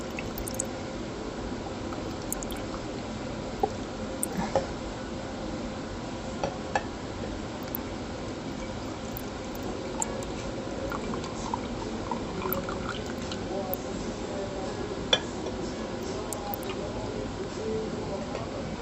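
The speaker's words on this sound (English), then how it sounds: "I'm pouring all of this in here without the SCOBY, obviously, because that's what the kombucha is." Home-brewed kombucha poured into a container with the SCOBY left out, a soft continuous liquid trickle with scattered drips and small splashes, fairly quiet and steady throughout.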